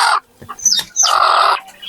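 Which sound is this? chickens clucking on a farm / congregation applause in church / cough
chickens clucking on a farm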